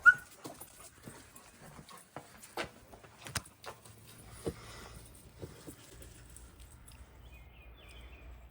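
Soft, intermittent whimpers and small yips from puppies, scattered and close, mixed with light shuffling and quiet movement.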